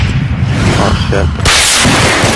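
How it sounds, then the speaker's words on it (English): Loud, dense gunfire and explosive booms roar through a Battlefield 3 team deathmatch, a continuous rumbling barrage that turns into a harsh, bright blast of noise partway through. "Why'd you shoot the med kit?"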